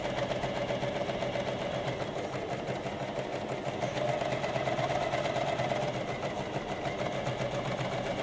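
A coverstitch sewing machine runs steadily while stitching binding onto fabric, its fast even hum and mechanical chatter continuous and close throughout, with no talk over it.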